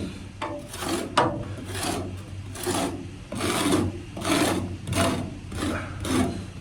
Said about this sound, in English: just using a scraper